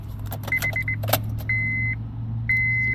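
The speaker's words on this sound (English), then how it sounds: "So if I even switch the key on," On a Honda CR-V, the ignition key is turned: keys jangle and click near the switch, then several electronic chime beeps sound over a low steady hum.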